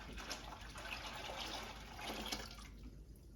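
Homemade cayenne, cherry tomato and garlic hot sauce poured into a pot, a steady soft liquid pouring and splashing that runs quietly and evenly for a few seconds with no voices.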